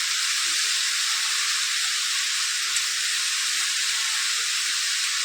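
Peas simmer in a pot for ghugni curry, making a constant, even hiss of boiling and steam with no pauses.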